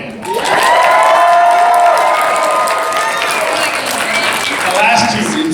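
Audience at a Mandalorian Q&A panel breaking into loud applause and cheering, a dense burst of clapping and whoops that swells quickly and holds for several seconds before easing slightly.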